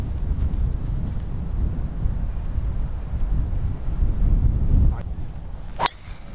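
Gusty wind rushes across an open golf course at Pursell Farms, a loud, rumbling buffet that roars steadily, then a single sharp crack rings out near the end.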